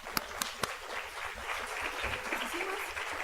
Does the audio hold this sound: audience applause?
yes